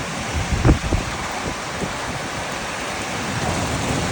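Steady rain falling outdoors, a dense continuous hiss with low rumbling wind buffeting the microphone and a brief louder thump early on, no voices.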